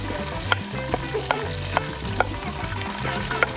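Food frying in a pan during rural Ghanaian home cooking, with steady close sizzling and bubbling, occasional light clinks and stirring scrapes over a low background hum.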